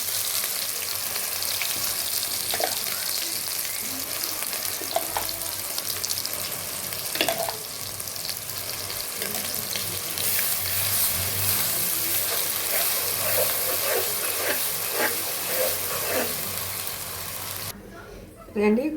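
Ground masala paste with ginger paste frying in oil for gongura prawns gives a continuous crackling sizzle, broken by scattered clinks and scrapes of stirring at moderate loudness.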